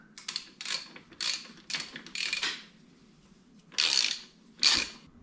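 A wrench ratchets a nut onto a washer while fitting a Scotts steering damper to a Ducati Hypermotard 1100, heard as several short close clicking ratchet bursts separated by brief pauses, with no talking.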